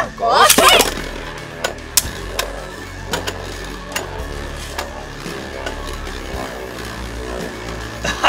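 Beyblade Burst spinning tops whir steadily in a stadium, with a sharp launch at the start followed by scattered metallic clicks and knocks as they clash, some faint voices in the background.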